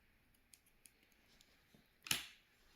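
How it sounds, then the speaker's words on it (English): A pair of scissors cutting crochet yarn: a few faint clicks, then one short, quiet snip, close up in an otherwise quiet room. "Cut the yarn"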